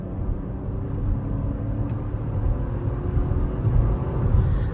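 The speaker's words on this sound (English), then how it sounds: "I'm going to go ahead and floor it here so we can see what the Trax has for power." Chevrolet Trax SUV floored from about 38 mph, its engine rumbling as a low steady drone with road noise from inside the cabin, rising only slightly in loudness over the stretch.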